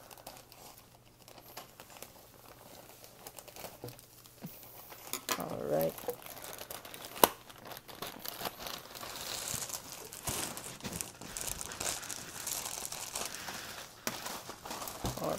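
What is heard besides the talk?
opening tripod packaging with safety scissors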